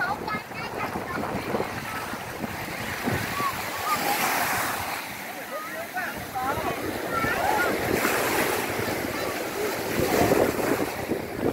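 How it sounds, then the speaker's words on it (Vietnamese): Big ocean waves break continuously on the beach at Mui Ne, Phan Thiet, in a steady roar of surf mixed with gusty wind buffeting the microphone. "Đây sóng lớn mà phải không?"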